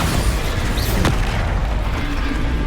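A Bombarda explosion spell goes off in Hogwarts Legacy, a loud close boom with a sharp burst followed by a rumbling low tail that fills the short clip.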